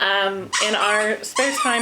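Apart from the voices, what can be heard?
pet dog barking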